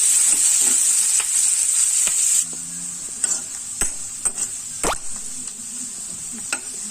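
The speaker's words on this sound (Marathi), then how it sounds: "कांदा याच्यात आपण आता नीट व्यवस्थित भाजून घेऊया." Onion frying in oil gives a constant bright sizzle, with intermittent scraping and stirring knocks from a spoon in the pan, and the sizzle quietens partway through.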